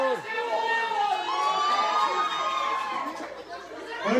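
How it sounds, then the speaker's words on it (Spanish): Crowd at a lucha libre wrestling arena cheering and applauding the técnicos, with lots of shouting and chatter; loud, busy crowd noise that keeps going the whole time. "¡Fuerte los aplausos para los técnicos!"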